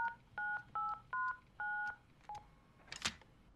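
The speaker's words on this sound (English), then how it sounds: "Let me just find the number here." Phone number keyed in inside the indie game Dr. Langeskov, The Tiger, and The Terribly Cursed Emerald: a run of about seven clear dual-tone keypad beeps in uneven rhythm, closely miked, followed by a brief click.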